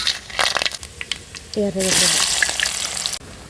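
Whole spices (fennel, cinnamon, cloves, cardamom, bay leaf) dropped into hot oil for a restaurant-style paneer curry, a brief clatter and then a loud, close sizzle swelling for about a second and a half, with talk around it.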